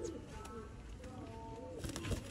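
Sialkoti pigeons imported from Dubai coo in a loft, soft repeated throaty calls over a steady low background hum, with a few brighter bird sounds near the end.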